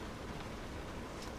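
Steady, even rain hiss fills the clip, a soft continuous wash of falling water with no distinct drops or voices.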